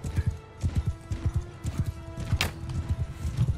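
Horse hooves pound in rapid galloping clip-clop rhythm in Mount & Blade II Bannerlord, loud and close, with a brief whinny-like burst midway.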